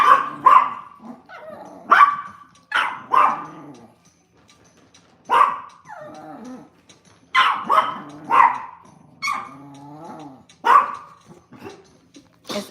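Several Yorkie terriers bark in sharp, high-pitched bursts indoors, close and loud, some barks clustered together and others separated by short pauses, with a few whiny yips mixed in.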